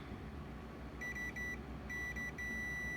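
A multimeter on its continuity setting sounds a sharp electronic tone against a short circuit: two brief beeps, then a longer continuous tone, all over a faint background hum.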